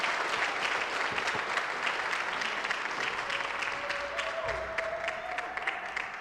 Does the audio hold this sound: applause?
yes